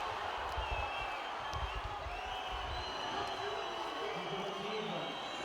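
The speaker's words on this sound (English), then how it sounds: "You can hear the crowd." A crowd cheers at a professional women's volleyball match, the Champions League semifinal between Igor Gorgonzola Novara and VakifBank Istanbul, a broad arena roar under a commentator's voice.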